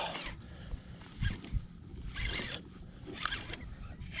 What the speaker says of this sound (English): That is the sound of a pulling drag.